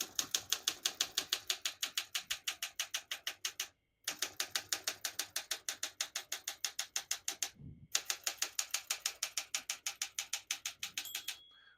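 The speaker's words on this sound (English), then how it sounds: "Once you hear the bell, you're near the end of the margin." Rapid, steady clacking of a 1965 Olympia SM9 manual portable typewriter's keys in three runs separated by brief pauses, with a carriage sound between bursts and a small margin-bell ding near the end.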